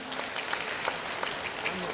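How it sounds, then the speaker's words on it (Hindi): Audience applause at a state-level party workers' meeting, a steady wash of clapping that fills the room for the full stretch, with some talk mixed in underneath. "ताली, जोरदार ताली बजाइए भाई।"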